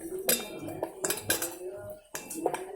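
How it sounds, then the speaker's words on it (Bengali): A metal spoon clinks and scrapes against a bowl in separate bursts while fish is mixed with mustard oil and spices, close and fairly faint. "দেখো তেলের সবগুলো একসাথে একটু মাখিয়ে নিচ্ছি।"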